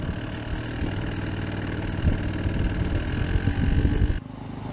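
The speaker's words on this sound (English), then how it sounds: "80cc single-cylinder 2-stroke engine with a 4-speed gearbox and piston porting induction made by Fuji Industries in Japan." A Fuji-built 80cc single-cylinder two-stroke motorcycle engine with piston-port induction idles steadily and loudly up close, its rapid buzzing putter holding even until it drops abruptly near the end.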